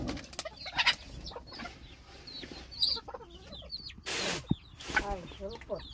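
Chickens cluck and squawk nearby in uneven bursts, with a rooster-like call and people talking now and then amid the farmyard noise.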